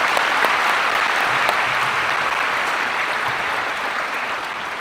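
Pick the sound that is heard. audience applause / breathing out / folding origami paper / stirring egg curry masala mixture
audience applause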